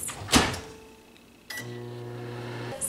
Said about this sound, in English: So in the microwave, it goes for 1 minute